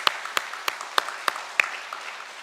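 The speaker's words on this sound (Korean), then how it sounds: "우리 뜨거운 박수로 환영해 주시기를 바랍니다" Sparse, separate hand claps ring out about every third of a second, a thin, hesitant round of applause from a small church congregation rather than a full crowd.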